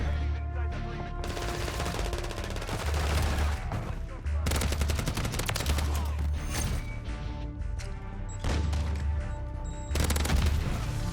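Automatic SVA 545 rifle fire in Modern Warfare 3, rapid loud bursts of gunshots repeating in several strings with brief pauses between them.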